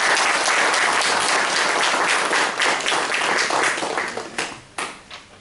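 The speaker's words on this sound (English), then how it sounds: "Let's again have a big round of applause" Audience applause at a Toastmasters club meeting: dense, loud clapping from a room full of people that holds steady, then thins into scattered claps and fades out near the end.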